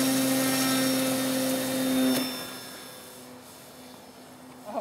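A ParkZone F4U Corsair RC model airplane flies low circuits for takeoff and landing practice over snow, its electric motor giving a steady whine that swells near two seconds, then fades to a fainter, more distant drone.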